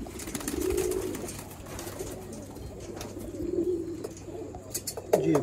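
Sialkoti pigeons kept by a breeder coo in low, rolling phrases, one near and fairly loud swell at the start, another a few seconds later, amid faint background shuffling.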